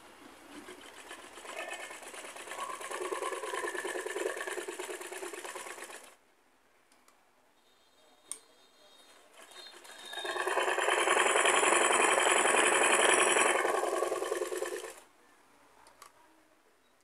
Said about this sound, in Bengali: তো এখন দেখেন আমি সেলাই করছি